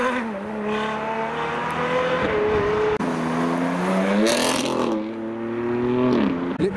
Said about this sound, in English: Oh, this RS4 seems happy with the throttle.